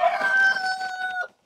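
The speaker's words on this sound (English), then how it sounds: "The rooster's not liking us messing about in here." A rooster crows inside a backyard chicken coop, one loud, close, drawn-out call that holds steady and then cuts off, with no talking over it.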